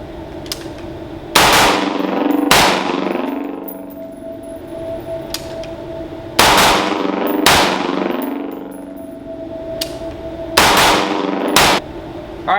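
Handgun shots during a defensive shooting range drill, fired in quick pairs with a pause between each pair, each shot loud and close, followed by a ringing metallic clang from the steel target.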